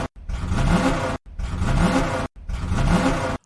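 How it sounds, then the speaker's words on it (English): A Kevin Harvick number 4 stock race car engine is revved in three separate loud bursts, each rising and then cutting off sharply, evenly spaced and close up. "And to the number 4, here's 4 revs for Kevin Harvick."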